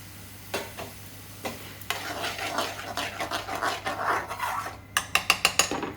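Tomato tipped into a pan of rogan josh sauce for British Indian restaurant-style lamb, bringing a busy sizzle and frying hiss with stirring scrapes and a few sharp clinks of a utensil against the pan near the end.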